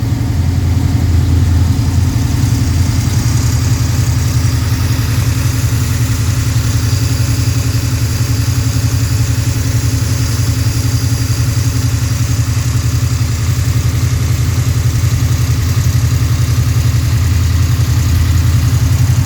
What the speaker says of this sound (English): Let it get a little bit of engine temp in here before we kick it off the high idle here